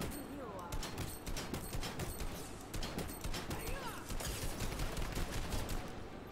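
Rapid gunfire in a Fortnite-style battle royale shooter, a continuous stream of sharp, closely spaced shots in bursts, with game effects mixed in and a voice talking faintly underneath.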